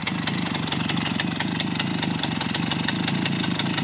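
A Romet motorcycle engine runs steadily at low revs during a beginner's first riding lesson, a continuous muffled rumble, near and even, with no talk over it.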